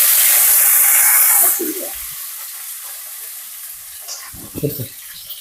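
Oil heats in a pan for a stir-fry, starting as a loud, broad hiss that drops off abruptly after a second and a half, followed by quiet gaps and a few low thumps and clatters.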